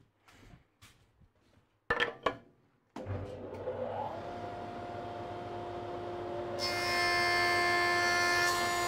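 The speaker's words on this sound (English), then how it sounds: "this side against the fence on the jointer and go over, and that will open the mouth up" A pallet-wood hand plane body is run over a jointer against the fence after a few knocks and handling noises; the machine starts with a loud, steady whine and roar that grows higher and harsher as the cut goes on.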